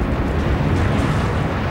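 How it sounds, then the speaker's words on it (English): A bomb explodes at the American Embassy compound in Nairobi, heard as a loud, sustained, broadband roar and rumble that fills the whole stretch without any speech. "The force of the explosion shatters all the windows within a 3-block radius."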